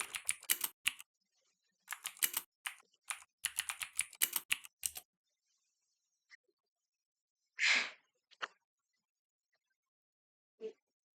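Bursts of quick clicking keystrokes on a computer keyboard as a command is typed, followed by a few sparse, isolated sounds and near silence.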